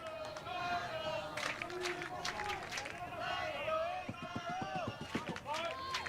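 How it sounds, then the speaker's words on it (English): A baseball crowd at a Tuesday night quarterfinal game between London and Hamilton, with scattered clapping and cheering in the sixth inning under continuous talk. "Crowd coming alive here in the 6th."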